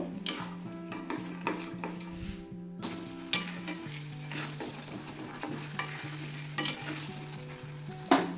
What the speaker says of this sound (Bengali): একটু কষে নেব।